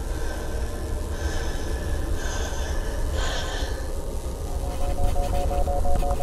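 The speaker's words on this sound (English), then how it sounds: "Who's breathing?" Heavy, rasping breaths in a horror video game, a steady close breathing noise with gasps and snorts over a hiss of static.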